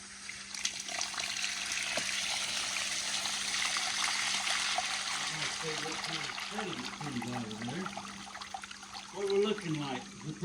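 Dirty water draining from a water heater drain valve: a steady rushing trickle throughout, with a voice speaking over it near the end.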